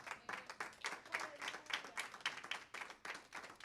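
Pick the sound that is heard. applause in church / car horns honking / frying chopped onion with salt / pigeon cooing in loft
applause in church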